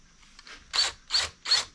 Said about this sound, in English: So we're going to try to use this bigger drill.